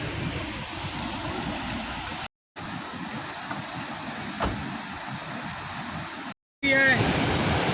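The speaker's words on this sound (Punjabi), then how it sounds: "ਇੱਥੇ ਆ ਕੇ ਸਤਲੁਜ ਤੇ ਬਿਆਸ ਇਕੱਠੇ ਹੁੰਦੇ ਨੇਗੇ ਉਹ ਵੀ ਫੁੱਲ ਭਰਿਆ ਦਰਿਆ" A full river rushes in a steady, broad roar where the Sutlej and Beas meet at Harike Pattan in Punjab, heard close and continuous with brief cuts in the recording.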